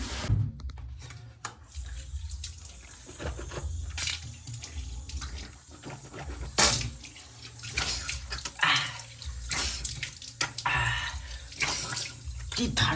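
Cold water running and splashing from a tap near a rooftop tank setup, a close, uneven gush with intermittent louder splashes and drips throughout.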